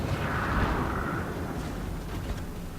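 Naval gun salvos from a warship in World of Warships roll out as a dense, continuous rumble of artillery booms, loud and sustained, with no voices over it.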